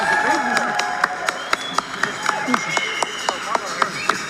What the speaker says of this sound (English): Positive reception for both fighters from the Almaty crowd.